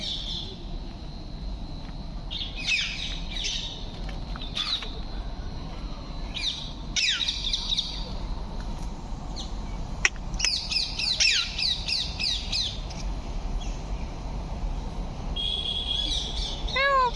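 Birds squawking and chirping outdoors at a deer park, a series of sharp calls that come in scattered bursts over a low, steady background rumble.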